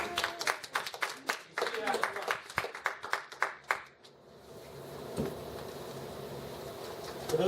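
Workshop attendees clap at the close of a session, a burst of individual claps for about four seconds that fades out, followed by quieter room murmur and shuffling.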